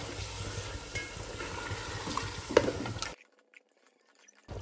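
Marinated chicken fries with onions over a high flame, giving a loud, steady sizzle with stirring scrapes for about three seconds before cutting off to near silence.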